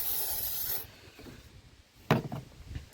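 CRC throttle body cleaner sprayed onto the throttle body of a 2011 BMW 328i, a short, sharp hiss of aerosol up close that cuts off, followed by quiet handling knocks and a brief rustle.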